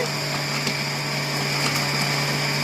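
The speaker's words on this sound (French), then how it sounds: "Et je vais mettre le programme haché." A food processor running its chopping program, a loud steady mechanical whir with a constant motor hum and faint rhythmic ticking throughout.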